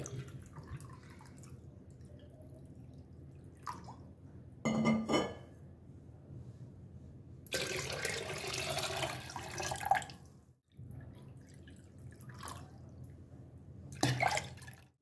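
Water going into raw mango pulp for a panna drink, heard as several short, separate pours and splashes with faint glassy clinks between them in an otherwise quiet room.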